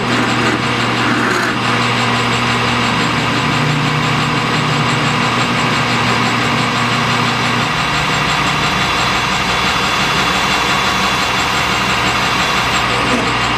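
A loud, continuous whine of an electric drill drilling while making deburr arbors runs steadily throughout, its pitch shifting slightly partway through, with no speech.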